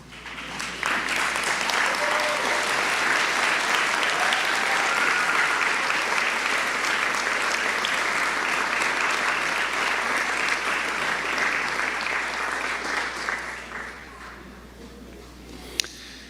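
A large audience at a university undergraduate graduation ceremony for civil, environmental engineering and earth sciences bursts into sustained, dense applause that runs loud for over ten seconds before tapering off, with a faint voice underneath.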